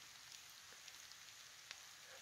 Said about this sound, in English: There it is, the beautiful rain